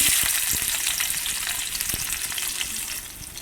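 Chopped onion and green chilli fry in a hot oil tempering, a loud, close, continuous sizzle with crackling pops and a few stirring scrapes. It fades slightly toward the end, with no talking.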